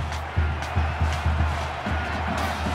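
A stadium crowd in the NCAA 14 college football video game, Georgia at Alabama, roars as a continuous broad wash with a few rhythmic low thumps pulsing through it.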